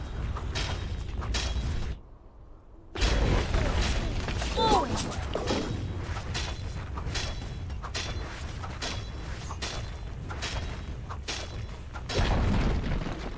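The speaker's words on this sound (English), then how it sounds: "Dire's top tower is under attack." Dota 2 tower under attack: a rapid string of booming impacts, thuds and mechanical clanks, with a brief near-silent gap early on, then continuous battle hits and crunches to the end.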